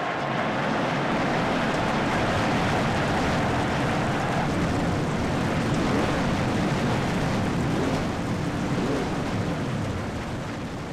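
Stock car engines in a racing video game fire up and the full field rolls off together at Michigan, making a dense, steady, loud roar that holds without a break and fades a little at the end.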